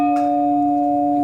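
A church bell swung once, a single sustained tolling tone with a steady ringing hum that holds loud and clear without decay through the short clip.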